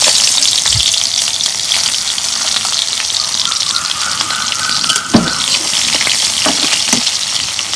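Chopped onions frying in hot oil for a Bengali fish curry, a loud continuous sizzle with occasional spatters and a brief clink partway through.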